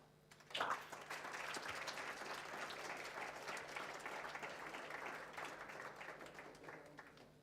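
Steady applause from an indoor audience for a grade 8 St. John's College winner at the South African Mathematics Foundation awards function, starting abruptly after a brief quiet moment and holding at an even, full level to the end.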